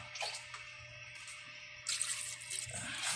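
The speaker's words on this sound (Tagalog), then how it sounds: "So, lagyan natin ng tubig" Water poured into a cooking pot of chicken sinigang, faint splashing and trickling in short bursts, quiet and close.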